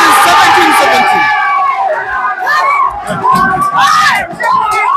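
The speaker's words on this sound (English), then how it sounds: "it's a big crowd here. People are shouting. People are crazy." A large crowd at a pool match yells, whoops and cheers in a loud, continuous roar, with excited voices rising and falling throughout.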